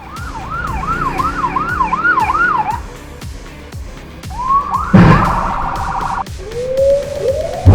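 A fire truck's loud, close siren yelps in quick repeated whoops, breaks off, then returns in shorter rising sweeps amid traffic noise and a sudden clatter as a car crashes into the truck.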